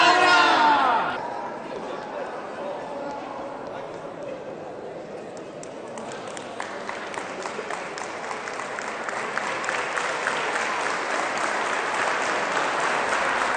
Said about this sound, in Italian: C'è l'applauso del Pallacolor,